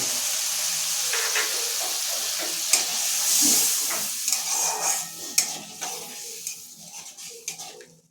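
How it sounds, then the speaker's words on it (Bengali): Water poured into a pan of frying mustard and poppy seed masala for a Bengali parshe fish curry, setting off a loud hissing sizzle that slowly settles into softer crackles and bubbling, with a few clinks of a utensil. "এবার ওই মশলার বাটিতে এক বাটি জল দিয়ে দেবো"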